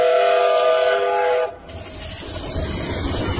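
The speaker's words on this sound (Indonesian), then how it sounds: "Kemudian Kita mainkan kereta Thomas warna merah." A red Thomas toy train runs with a steady electric whir, a loud tonal hum that drops off sharply midway and gives way to a lower rattling drone.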